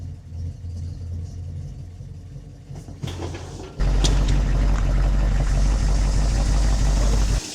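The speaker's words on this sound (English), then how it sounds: "It's like an idle circuit's just going now." The engine of a 1961 Buick idles with a low, steady rumble, quieter at first and then jumping abruptly into a louder, fuller idle that holds to the end; no talk.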